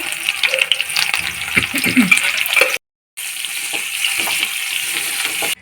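Mustard oil sizzles steadily in a pan as turmeric goes in, for a potato dum with curry leaves. The hiss is continuous and fairly loud, with a few low clatters early on and a brief drop to silence midway.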